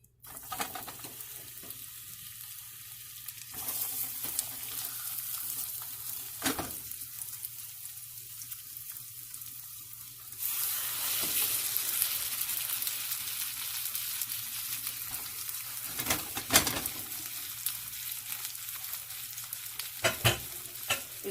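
Chicken pieces for chicken parmesan fry in a lightly oiled pan with a steady close sizzle that swells louder midway, broken by occasional clicks and scrapes of stirring, and no one speaks.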